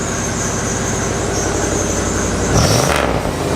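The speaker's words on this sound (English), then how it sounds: "Give her a rev." An abandoned Cadillac limousine's engine idles steadily, then revs up sharply near the end, a loud rising roar that briefly swells before settling.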